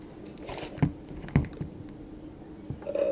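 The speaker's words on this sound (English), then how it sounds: "I don't know why my clicking's loud" A computer keyboard and mouse click during a Black Ops II gaming session, with a few sharp taps and scattered lighter clicks over a steady background hum, heard up close.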